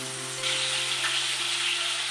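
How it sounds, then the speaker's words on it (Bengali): Potatoes frying in a pan, a steady, close hiss of sizzling oil that swells slightly a moment in and holds evenly throughout, with a faint low hum underneath and no speech. "ওই জন্য আলুটা ভেজে নিই"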